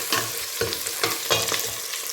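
A spoon scrapes through vegetables in a pot for the Congolese dish ndunda biteku teku, giving rhythmic swishing strokes over a soft sizzle, close and fairly loud.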